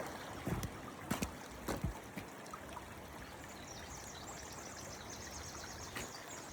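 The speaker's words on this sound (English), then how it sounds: "Here we are, posted up the babbling brook." A babbling brook runs with a soft, steady trickle and splash, broken early on by a few sharper clicks and knocks.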